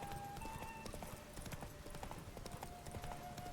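A horse gallops in The Witcher 3 game, its hooves beating a rapid, steady clip-clop with a faint whinny and tonal music behind.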